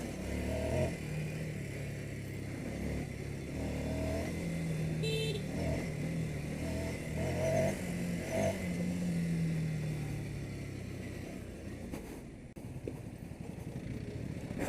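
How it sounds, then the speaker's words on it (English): A Ducati Scrambler Sixty2 motorcycle is ridden through Kathmandu traffic, its engine a steady, rumbling drone that shifts with the throttle, with car horns tooting and other traffic nearby. "It's so cool riding a Ducati in Kathmandu"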